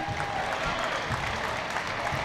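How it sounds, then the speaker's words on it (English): A basketball crowd in a high school gym cheers and claps as a dense, steady roar that holds at full volume for the whole moment. "Their crowd's getting a little amped here, trying to give them a little extra energy"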